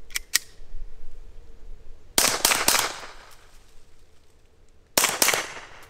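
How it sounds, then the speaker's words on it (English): A Walther PPK/S .22LR pistol fitted with a three-baffle suppressor fires into dirt outdoors: sharp, close shots in small clusters of two or three, separated by pauses. "I'm going to shoot into the dirt."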